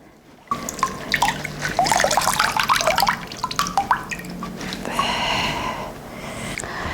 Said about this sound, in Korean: 찬물에 한번 헹궈서 한번 꼭 짜서 씻어 보겠습니다